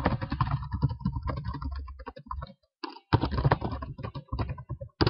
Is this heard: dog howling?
no